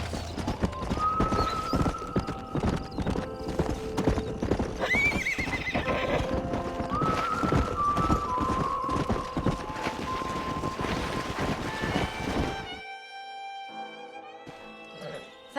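Horses neigh and whinny with steady hoof clip-clop in the Western video game Red Dead Redemption at a ranch, loud and continuous with wind noise, ending in a quieter stretch.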